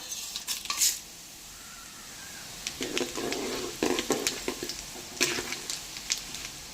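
Crackling sizzle of whole spices and fenugreek frying in hot oil for mutton curry, with bursts of popping and a few clinks of a utensil against the pan, fairly close.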